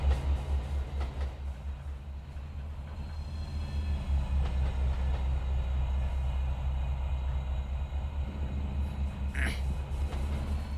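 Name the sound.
train running in a video game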